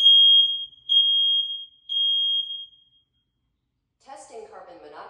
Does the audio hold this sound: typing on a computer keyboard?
no